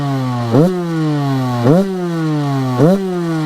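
A Honda CR125 two-stroke dirt bike revs hard in second gear, its loud, buzzing engine note climbing steadily in pitch, then dropping sharply and climbing again in three repeated surges, close and with no talking.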